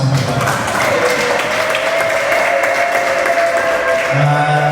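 Steady clapping from a crowd at a traditional Rwandan wedding ceremony fills the whole stretch, dense and continuous with a faint murmur of voices underneath.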